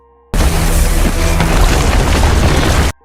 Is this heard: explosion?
yes